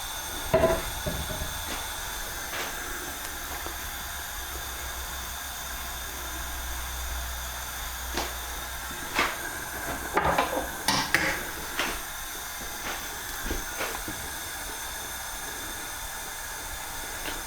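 Egg cooks in hot oil in a wok with a continuous soft hiss and sizzle, broken by scattered clinks and scrapes of metal against the pan that cluster toward the middle and end.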